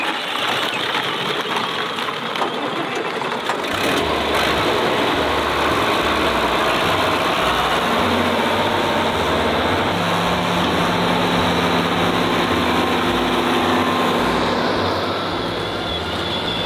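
Farm tractor engine idling nearby, a steady loud low rumble with a regular throbbing pulse that holds throughout, a brief clank early on and a faint higher hum joining later.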